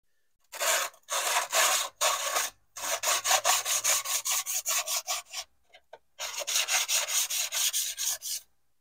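A jointer knife is rubbed back and forth on a Parkside 600-grit diamond sharpening stone, making a clear run of evenly paced scraping strokes in two bursts separated by a short pause, close and with no talking.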